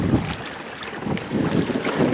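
Wind rushes steadily across the sail and microphone of a Hobie Tandem Island sailboat on open water, a continuous close roar that swells and dips over about two seconds, with faint water noise beneath.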